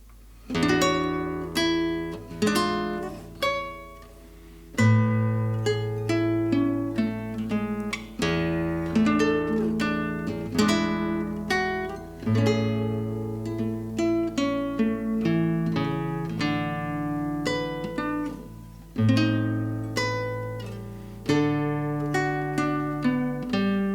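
Solo guitar plays a jazz ballad, with arpeggiated chords and a melody moving through rich harmonies, intimate and close, with no voice.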